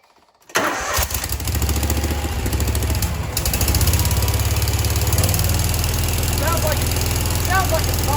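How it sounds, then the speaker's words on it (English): A Grasshopper 727 KW mower with a Kawasaki engine, running poorly on one cylinder from a clogged carburetor, cranks and fires after a second of quiet, then settles into a loud, rough idle close by, with a brief voice near the end. "a Grasshopper 727 KW with the Kawasaki engine, and it's just not running very well"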